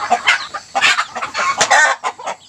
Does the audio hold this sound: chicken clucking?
yes